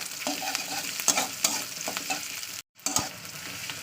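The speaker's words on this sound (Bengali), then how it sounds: "চলুন পেঁয়াজটা একটু লালি করে ভেজে নিই।" Sliced onions fry in hot mustard oil in a pan, a bright continuous sizzle broken by repeated scraping stirs of a spatula, with one brief moment of silence near the end.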